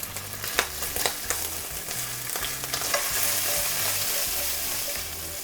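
Bacon and onion stir-frying in garlic oil over medium heat make a steady sizzle broken by scraping stir strokes. The hiss swells fuller and louder toward the end, with a low hum underneath.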